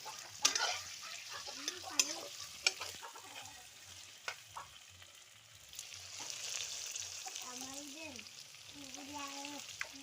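Chillies frying in a pan sizzle quietly with occasional stirring clinks, while someone talks over the cooking at a home kitchen.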